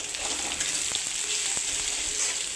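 Ground spices such as coriander, cumin and turmeric frying in hot oil for a Bengali fish curry, a steady close sizzle with a few soft stirring clicks and no speech.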